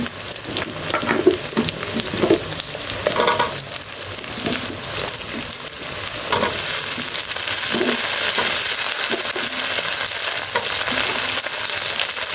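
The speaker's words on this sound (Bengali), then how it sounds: "এখন আমি কেটে ধুয়ে রাখা সবজিগুলো দিয়ে দেবো এখানে আমি কচু আর আলু নিয়েছি" Taro and potato dropped into a pan of fried onions, giving a loud, close, steady sizzle broken by stirring scrapes and a surge of frying hiss midway, with no talk.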